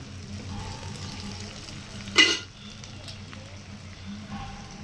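Onions sauté with a pinch of salt in a pan for a Chettinad-style quail egg pepper gravy, giving a soft, steady sizzle with one sudden louder hissing flare partway through before settling back down.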